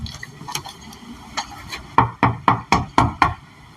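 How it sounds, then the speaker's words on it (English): Police knock on a house door: scattered lighter taps, then a loud, firm run of six evenly spaced raps close by, with no talking. "That is a police knock."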